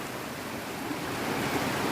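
Steady rushing roar of water tumbling down a Kolli Hills waterfall, dense and unbroken, heard close by without any talking.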